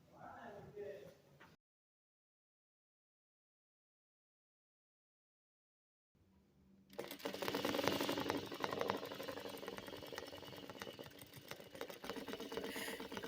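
Sewing machine quilting feathers into layered fabric, a steady motor whir and rapid needle stitching that starts after a silent gap and runs continuously, with a voice talking over it.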